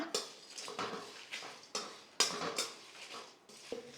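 Cardamom pods dry-roasting in a pan rattle and scrape as they are tossed and stirred, with repeated metallic clinks of a utensil against the pan at an uneven rhythm, close and fairly quiet.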